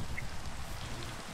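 Rain falling in the video game Minecraft, a steady soft patter of drops filling the short stretch at low volume.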